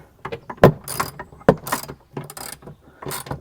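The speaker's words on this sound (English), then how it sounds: "We'll take our socket and" A socket ratchet tightens a mount bolt on a Springtail MPAC MOLLE cargo rack against the upper sill of a 2021+ Ford Bronco, giving rapid clicking bursts in several close, loud runs with short pauses between.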